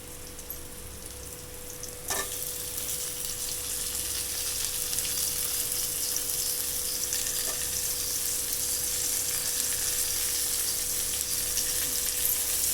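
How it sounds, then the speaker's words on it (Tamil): Tomatoes sautéing in a pan while a fish fry is prepared at home, giving a steady, fairly loud sizzle throughout with a couple of brief stirring clicks and no talking. "இப்போ இந்த ஸ்டேஜில் வந்து தக்காளி போட்டு நல்லா வதக்கிக்கணும்."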